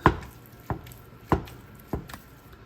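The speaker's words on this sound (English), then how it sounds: "I'll start by breaking the turkey up." Ground turkey is broken up in a pot for soup with four sharp, evenly spaced knocks and scrapes of a utensil, close and clear with no talk.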